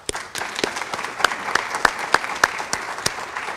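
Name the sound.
round of applause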